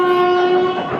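A train heard near the Rameswaram route, its loud sustained horn tones dominating with rumbling rail noise underneath, steady throughout the short moment with no talking.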